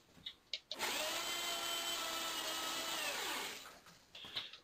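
A power drill whirs steadily for a few seconds while coiling kiln heating element resistance wire on a jig, starting and winding down with a falling pitch, framed by small handling clicks and knocks before and after.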